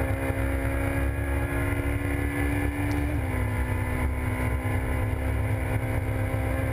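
Ferrari 458 Italia race car at around 310 km/h on the long Le Mans straight, heard from on board as a steady, loud engine drone with a constant pitch and a slight downward shift partway through, mixed with wind roar.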